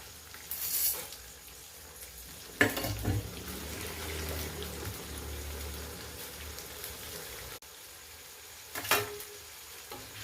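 Garlic fries in a pan for a banana flower stir-fry, giving a soft, steady sizzle with a few louder clatters of stirring. No one speaks.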